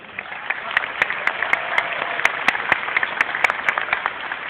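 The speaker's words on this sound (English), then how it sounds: "give ourselves a round of applause" Applause from the audience at a 2011 J.P. McCaskey graduation ceremony, a steady crowd of clapping with sharp individual claps standing out, heard at a moderate distance and carrying on without stopping.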